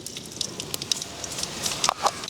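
Mustard seeds sizzle and pop in hot oil for tempering a village-style goat intestine and blood fry, a soft steady sizzle with scattered sharp crackles and pops close by.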